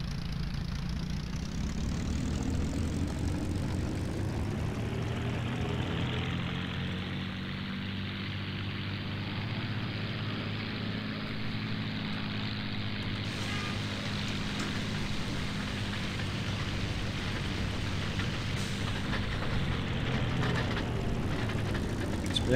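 The engine of a Hurricane Mk.1 fighter idles on the ground in the IL-2 1946 flight game, a steady, moderately loud propeller drone that continues without a break. A faint tonal shift comes partway through.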